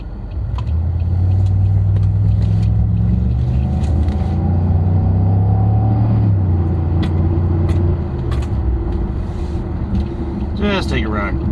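A car drives around a block, its engine rumbling steadily from inside the cabin and shifting pitch as it moves through gears, with people talking over the noise.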